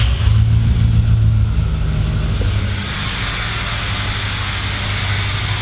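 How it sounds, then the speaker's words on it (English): A converted adventure bus engine cranks and catches, settling into a steady low idle rumble that continues throughout, loud and close with no talking. "When we turn the bus on"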